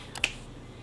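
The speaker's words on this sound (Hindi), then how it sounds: "चुटकी बजा दी।" One crisp finger snap, close and quiet, in an otherwise still room.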